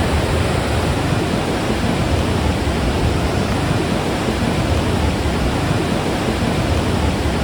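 River Dane water pouring at a feeder weir, a dense, continuous roar of rushing flow, loud and close, steady from start to finish with no voices.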